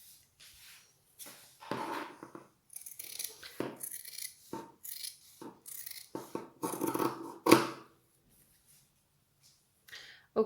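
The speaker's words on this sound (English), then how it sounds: "I'm going to cut where I have marked" Fabric scissors snip along a marked line to cut a circle skirt, making a series of short crisp cuts with brief pauses between strokes, close and fairly quiet.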